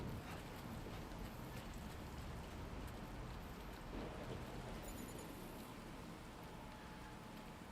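Steady rain hisses without a break in a video game scene, a broad, moderately faint wash of noise with a brief electronic chirp partway through and no talking.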